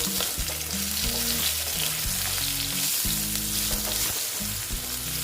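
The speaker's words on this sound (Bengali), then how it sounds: "হলুদ দিয়ে আলুগুলোকে আমি ভালো মতো ভেজে নেব" Potato pieces frying with turmeric in a pan for a poppy-seed bottle gourd greens dish, giving a steady close sizzle throughout with no talking.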